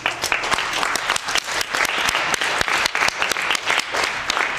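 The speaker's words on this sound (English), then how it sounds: "give yourself a round of applause" A room full of people claps steadily and loudly, continuous dense applause with no pauses throughout.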